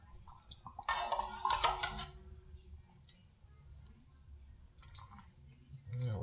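Broth is poured through a funnel into a canning jar tightly packed with beef pot roast, making a brief, quiet burst of trickling and splashing with a few light clinks, followed by near silence.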